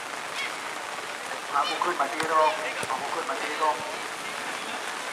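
Rain falling steadily on an outdoor football pitch during a local match, a constant soft hiss with occasional sharper drops, while a commentator talks over it.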